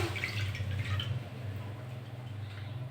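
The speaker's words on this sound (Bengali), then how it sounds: "গ্যাস জেলে কড়াটা বসিয়ে দিয়েছি, আমি জল দিয়ে দিচ্ছি।" Water is poured into a wok on a lit gas stove, giving a soft, close splash over a low steady burner hum. The pour is strongest in the first second and then settles into faint trickling.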